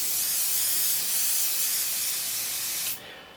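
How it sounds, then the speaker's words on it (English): Extra firm hold hairspray is sprayed onto a PI sheet 3D-printer bed in one steady, close hiss lasting about three seconds before it cuts off abruptly. "So you've got your PI sheet and spray your hairspray."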